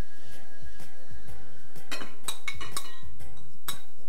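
Carrots, onions and aromatics dropped into a dish for a wild boar ragout, producing a series of light clinks and clatters of pieces and utensils against the dish, irregular and close.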